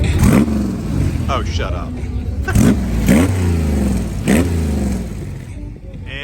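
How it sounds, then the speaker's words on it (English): A Stalker 7 engine at an indoor car show is hand-revved in several sharp, loud bursts that rise and fall, with crowd chatter and voices talking over the noise. "that is what it sounds like when you hand rev a Stalker 7"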